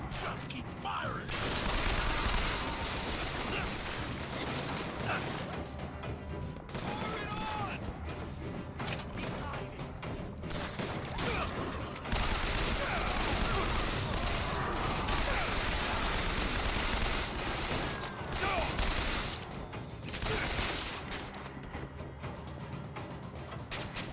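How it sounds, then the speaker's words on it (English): Enemy gunfire in Bioshock Infinite crackles as dense, sustained volleys with sharp bursts, loud and continuous across the whole stretch, with a voice speaking over the shooting. "Damn it, now they're shooting at me."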